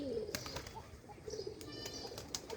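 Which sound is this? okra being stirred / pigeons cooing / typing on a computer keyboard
pigeons cooing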